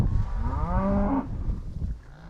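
A cow on a ranch lets out one long, loud, close moo that falls off into quieter outdoor background.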